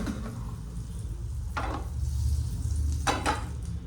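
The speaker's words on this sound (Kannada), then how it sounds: "ಬೆಣ್ಣೆ ಹಾಕ್ಬಿಟ್ಟು ಮೀಡಿಯಮ್ ಫ್ಲೇಮಲ್ಲೇ, ಸ್ಟವ್ ಮೀಡಿಯಮ್ ಫ್ಲೇಮಲ್ಲಿ ಇಟ್ಬಿಟ್ಟು ಬೇಯಿಸ್ಬೇಕು." Soya tikki frying in butter on a stove over medium flame, a steady low sizzle with a couple of brief scraping stirs from a utensil in the pan.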